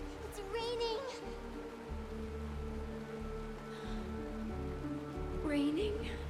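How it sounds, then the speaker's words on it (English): Rain falling during a Penacony cutscene in the video game Honkai: Star Rail, a steady soft hiss of drops under a low droning music bed, with character voices speaking over it. "It's raining!"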